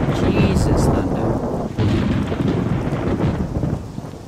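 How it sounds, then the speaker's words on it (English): Heavy thunder rolls and crackles through a downpour in a rainstorm in the game Ghost Recon, with a loud rumble that renews partway through over the constant hiss of rain. "Jesus, thunder."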